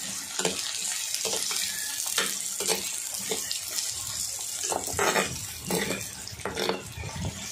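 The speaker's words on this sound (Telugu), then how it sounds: "ఆయిల్ వేడెక్కాక ఉల్లిగడ్డలు వేయాలి" Onions dropped into hot oil fry with a bright, crackling sizzle for a Telugu leafy-greens curry, broken by repeated scraping stirs of a spoon in the pan, close and fairly loud.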